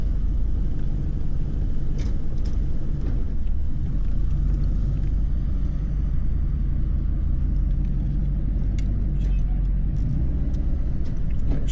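A 1932 Ford hot rod rolls along with a steady low engine rumble and road noise inside the cabin, broken by a few faint clicks and rattles.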